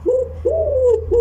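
Pigeons cooing close by in two or three smooth, drawn-out coos, the second one longer, over a low background hum.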